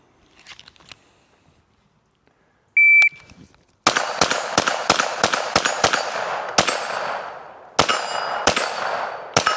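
A Ruger PC Carbine 9mm rifle fires outdoors in a rapid string of sharp, loud shots, roughly a dozen reports in irregular quick bursts with brief gaps, after some quiet handling clicks and a short electronic beep.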